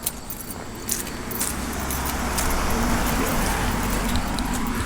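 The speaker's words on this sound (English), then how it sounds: "Get out of the road, car coming." A car approaching along a road in a state park, its engine and tire noise swelling steadily from faint to a loud, sustained rumble over a few seconds, with keys or small metal items jangling close by.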